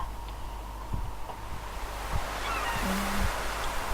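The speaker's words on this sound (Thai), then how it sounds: "โอ้ยเขาทำเสียงทะเลเหมือนกันนะ" A continuous wash of ocean surf in Stardew Valley, steady and full, with a few faint thumps and a brief tonal blip over it.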